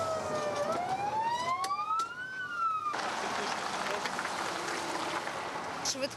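A fire engine's wailing emergency siren rises and falls in pitch, then gives way to rushing city traffic noise close by.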